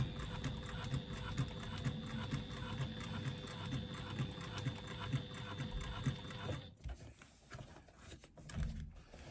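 A sewing machine runs steadily stitching across a lining seam for a clutch bag, a continuous rapid mechanical whir with rhythmic needle thumps, then stops abruptly near the end, leaving faint handling noise.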